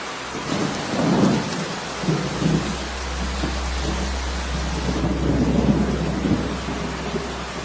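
Heavy rain pours steadily in the wild while low thunder rumbles repeatedly through a continuous storm, loud and enveloping, with no voices.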